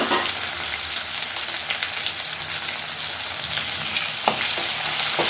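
Tomatoes sauté in a hot pan for a Tamil chapati masala, giving a dense, even crackling sizzle close by, with a few faint utensil taps and no speech.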